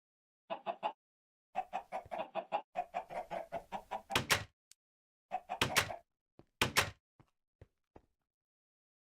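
Chickens from four spawners in the game Agrarian Skies cluck in quick repeated bursts, close and clear, with short pauses between groups and a few sharp clicks.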